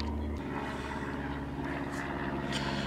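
Airplane engine drone coming from the speaker of an early 1960s General Electric M5 black-and-white portable television, a steady humming, propeller-like roar with layered tonal whine, continuous and moderately loud.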